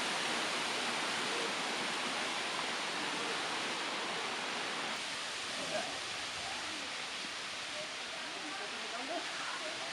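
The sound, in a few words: natural waterfall in a cave during rainy season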